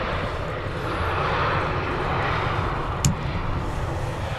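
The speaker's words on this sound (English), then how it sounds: "Tap Air Portugal, I assume, in from Lisbon. Yeah, lovely colours on this Embraer." A TAP Air Portugal Embraer 190 LR airliner passes at Manchester Airport, a broad steady jet roar heard from a distance with no talking over it.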